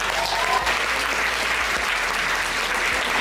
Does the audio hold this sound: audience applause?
yes